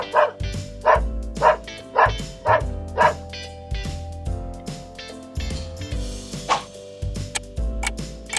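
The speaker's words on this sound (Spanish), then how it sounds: "Es el perro." A farm dog barks in a quick series of about six sharp, loud barks, then breaks into scattered yips and whimpering over a steady ticking background.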